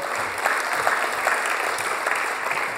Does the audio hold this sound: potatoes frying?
no